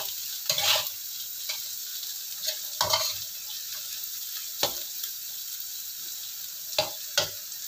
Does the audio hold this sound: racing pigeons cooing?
no